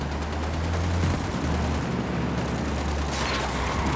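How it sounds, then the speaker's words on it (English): Sustained automatic gunfire in the tactical shooter Ghost Recon Wildlands, dense rapid bursts over a heavy low rumble, loud and close throughout. "Open fire."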